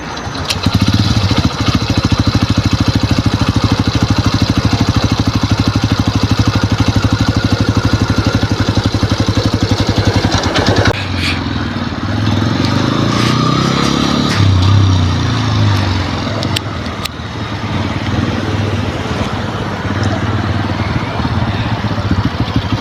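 A motorcycle engine idles loudly and steadily throughout during a riding lesson, its pitch shifting slightly midway as the rumble continues close by.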